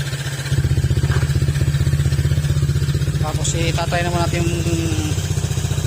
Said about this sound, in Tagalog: Kaso malakas na yung tambutso niya mga sir.